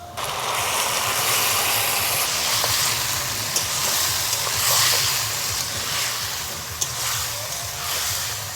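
Marinated chicken for Gondhoraj chicken sizzles in a pan of fried onions, a steady, loud broadband crackle and hiss running unbroken throughout with a few brief sharper pops, and no talking.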